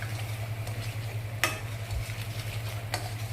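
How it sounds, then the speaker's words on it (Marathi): Stirring spices for homemade kaju masala in a pan, with paneer masala and turmeric: soft scraping strokes at a steady pace, a couple of sharper spoon scrapes, over a constant low hum and faint sizzle. "छान मिक्स करून घ्यायचं."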